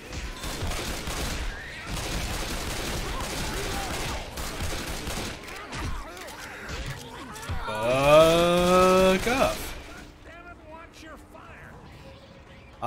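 Gunfire rattles while shooting zombies in Left 4 Dead 2, sustained shots under players talking, with a loud tonal in-game sound swelling in the middle before things quiet down.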